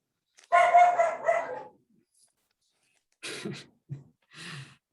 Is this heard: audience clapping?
no